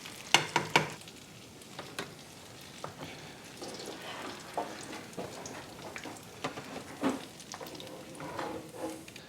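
Apple fritters fry in hot oil, giving a steady low crackle and sizzle with scattered sharper pops and clinks throughout, fairly close and moderately quiet, with no talking.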